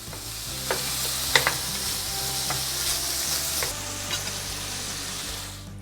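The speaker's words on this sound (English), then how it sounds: "And I'm gonna put in my bacon. And I'm gonna let it fry to a real nice golden brown." Strips of bacon fry in a pan over medium-high heat, giving a steady, close crackling sizzle with scattered sharp pops and no talking.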